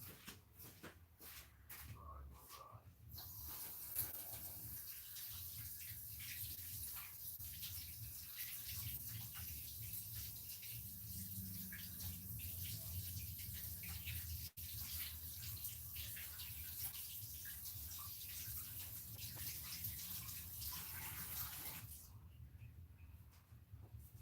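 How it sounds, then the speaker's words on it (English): Tap water runs steadily as hands are rinsed beneath it, a continuous close splashing flow with some rubbing and shuffling, stopping near the end. "I'm going to rinse off my hands real quick"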